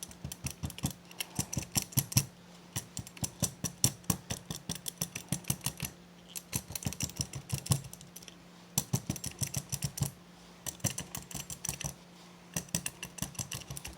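A spray bottle misting a gel press plate, its trigger giving quick rapid clicks and spritzes in bursts of rhythmic pumping, separated by short pauses, fairly faint and close.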